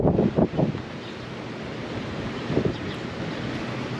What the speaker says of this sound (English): A whole lot of wind on these parts out here.